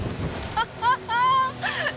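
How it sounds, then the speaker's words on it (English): Rain falling in the racing game Forza Horizon 5, a steady hiss of downpour underneath voices talking in the foreground. "Is the rain letting up?"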